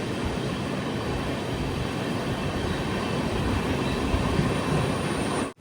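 Amrit Bharat Express sleeper-class train running steadily, a continuous loud rumble of wheels and carriage noise heard from inside, with no voices.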